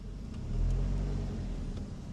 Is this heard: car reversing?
yes